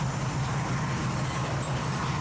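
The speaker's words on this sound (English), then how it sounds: "G819 is a northbound unit grain train from Lyelta to Edmonton." A CN northbound unit grain train from Lyelta to Edmonton rolls past on a winter night, a steady continuous rumble with low rail drone, heard close and constant with no talk.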